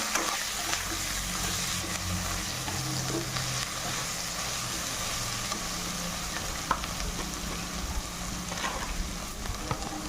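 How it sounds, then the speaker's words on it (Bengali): Goat trotters sautéing with salt in a pan, with a constant crackling sizzle like light rain and occasional soft stirring knocks, close and steady, with no one talking. "নুন পরিমাণ মতো এটাকে এভাবে কষে নেব"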